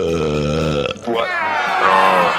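A long, loud, wet belch from a podcast host, deep and gurgling at first, then rising and stretching out into a strained, voiced tail.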